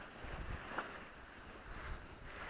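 Wind blows around a snow camp shelter as a faint, steady rushing hiss with slight gusts, heard from inside and alone without voices.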